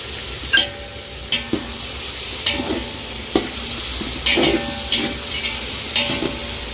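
Cinnamon and cloves fry in hot oil with tomato for mutton biryani, a steady close sizzle broken by regular scraping stirs of a spoon in the pan, with no talking.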